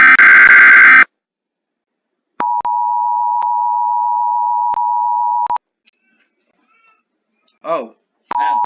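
A US emergency alert broadcast sends a steady two-tone attention signal for about three seconds after a short burst of loud noise, followed by quiet and a brief voice.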